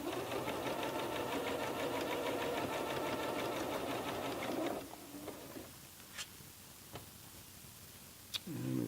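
A home sewing machine stitches a blind hem with a fast, steady mechanical whir for several seconds, then stops, leaving a few faint ticks and a short thump in a quiet room.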